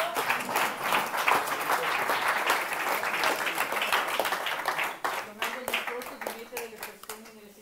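Audience at an evening literary event applauds steadily, many hands clapping in a sustained wash that gradually thins out toward the end.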